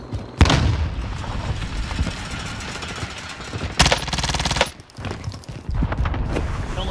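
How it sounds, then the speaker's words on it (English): A grenade blast and gunfire in the video game Warzone: a sharp boom, then a sustained burst of crackling fire and another loud hit midway, with steady noisy combat throughout and no speech. "Throw a grenade!"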